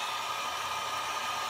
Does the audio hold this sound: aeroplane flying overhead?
no